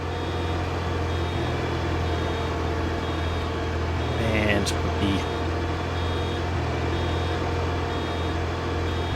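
A farm vehicle's reversing alarm in Farming Simulator 25, a short series of beeps sounding over a steady engine drone, with speech partly over it.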